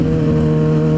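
Motorcycle engine held at steady revs with the clutch pulled in, a loud close drone with strong harmonics and no talking, during rev matching.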